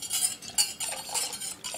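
Spoon stirring mixed flavorings into hot ginger clove water for a citrus tea: soft, continuous scraping and clinking against the vessel, close and steady, with no voices.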